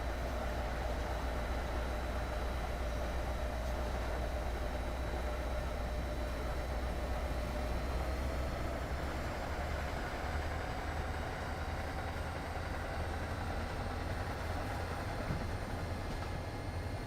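A locomotive in the game Train Sim World 6 rumbles steadily with a low engine drone and a faint rising whine, continuous and even for the whole stretch, with no talking.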